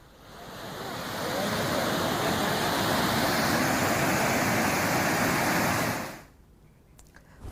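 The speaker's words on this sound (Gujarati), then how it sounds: "જે પાણી છે ઉપરથી ટોપિંગ થઈને જઈ રહ્યું છે" Floodwater pouring over a damaged river diversion road after heavy rain in Chhota Udepur, Gujarat, a dense rushing roar that swells in, holds steady, then cuts off abruptly before the end.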